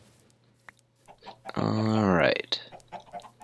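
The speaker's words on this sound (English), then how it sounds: "And we got some chickens." A Minecraft chicken clucks once, loud and close, in a short harmonic burst between quiet stretches of a man's speech.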